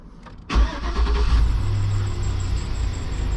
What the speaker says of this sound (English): All right, let's go ahead and fire this thing up.